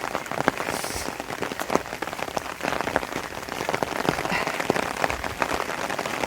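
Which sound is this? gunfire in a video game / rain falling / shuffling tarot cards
rain falling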